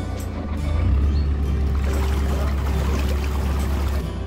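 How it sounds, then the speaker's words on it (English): A narrowboat engine runs close by inside a canal lock, a steady low chugging drone that surges and sags unevenly with a faint watery trickle underneath, and no talk over it. "Engine sounds weird, okay."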